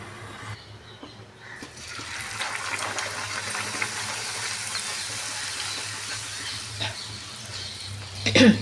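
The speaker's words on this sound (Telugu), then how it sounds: "పూరీలు వేపడానికి సరిపడా ఆయిల్ ఇంకా నూనె వేడెక్కింది పూరీలు పెట్టుకున్నాం" Puris frying in hot oil for pala puri, a steady bubbling sizzle that swells after the first seconds and holds close and continuous, with a brief clatter near the end.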